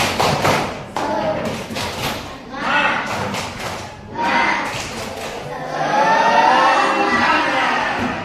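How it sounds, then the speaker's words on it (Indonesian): A group of children in a classroom do a rhythmic spirit clapping chant, with bursts of patterned claps and shouted chanting, loud and close, and a teacher's voice leading between rounds. "Kita tepuk semangat dulu ya. Tepuk semangat."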